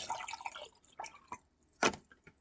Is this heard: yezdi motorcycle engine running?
no